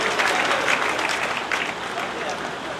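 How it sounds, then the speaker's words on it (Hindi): An audience at a gaushala religious gathering in Rampura claps for donors, steady broadband applause running continuously throughout at moderate loudness, with a faint voice mixed under it. "जोरदार तालियां इनके लिए।"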